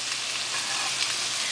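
Chicken for holy basil stir-fry sizzling and being tossed in a hot pan, with a steady, dense frying hiss that holds level throughout and no talk.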